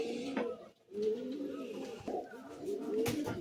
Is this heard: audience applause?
no